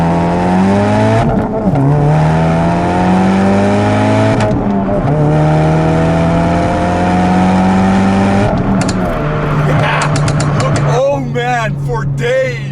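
A 2017 Ford Focus RS engine with an aftermarket exhaust revs hard through several gear pulls, rising and dropping in pitch, with crackling pops near the end; a voice is faintly present.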